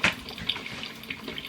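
Water runs and splashes steadily through a new coffee machine during its first cleaning cycle, a close, even hiss with a few brief drips and gurgles.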